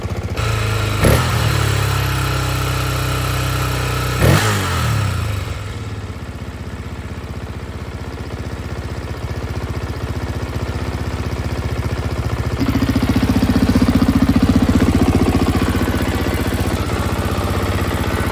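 A rare Honda dirt bike with an oil-packed, smoking exhaust and a leaking O-ring runs and idles steadily close by, with two sharp blips early on and a slight rise in engine tone near the end.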